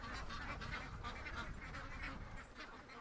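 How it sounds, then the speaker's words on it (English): A flock of ducks quacking loudly nearby at feeding time, overlapping nasal calls in quick bursts over a steady background. "the ducks, they're so loud"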